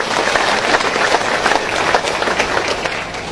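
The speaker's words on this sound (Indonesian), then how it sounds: "Tepuk tangan untuk saudara kita Muhammadiyah." Crowd applause at an Islamic religious lecture, a dense steady wash of clapping from a large audience, loud and close throughout with no pauses.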